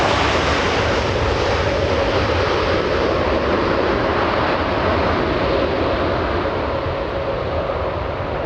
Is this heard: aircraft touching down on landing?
yes